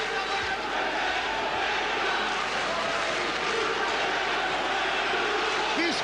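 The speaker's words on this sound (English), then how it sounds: "This crowd is deafening." Loud kickboxing arena crowd at a professional bout, a continuous dense roar of cheering and shouting that fills the space steadily throughout, with a commentator's voice blended in.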